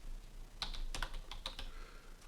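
Someone types a short message on a computer keyboard: a quick, uneven run of close, crisp key clicks, quiet and alone, lasting a couple of seconds.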